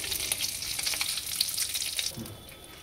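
Crabs frying in hot oil for a bottle gourd and crab curry give off a steady, close, crackling sizzle that carries on unbroken and eases slightly toward the end, with no talking.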